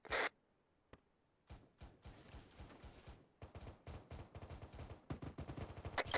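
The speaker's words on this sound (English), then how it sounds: "Where's that gunfire coming from?" Gunfire in the military shooter ArmA 3 during a convoy operation: a sharp opening burst, a lone shot, then sustained irregular volleys and rapid automatic fire, some distant and some closer, with no talk.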